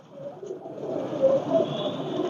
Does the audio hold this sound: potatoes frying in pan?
no